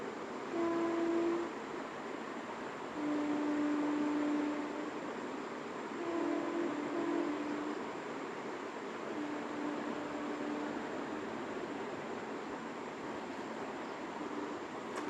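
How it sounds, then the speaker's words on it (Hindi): A train rumbles steadily past nearby, a low continuous roar with faint tonal hums drifting over it, no voices. "ट्रेन भी जा रही है बगल से"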